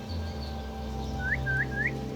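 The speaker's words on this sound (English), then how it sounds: "A whistle to bring him closer." A character in Assassin's Creed Mirage gives three short rising whistles in quick succession to lure a guard, faint over a steady game ambience.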